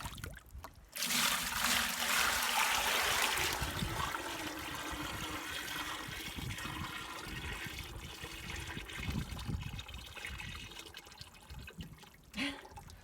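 A hand stirs clay and water in a bin, churning with a close, continuous sloshing swirl that starts loud and gradually settles into softer trickling and splashing, with a brief knock near the end.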